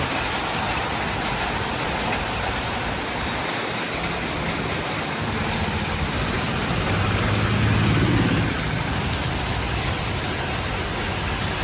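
Heavy rain pours down steadily, a dense continuous hiss of drops on surfaces, loud and unbroken throughout.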